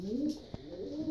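A pet pigeon or dove gives a soft, low coo close by, a brief rolling call in a quiet room, with a faint click in the middle.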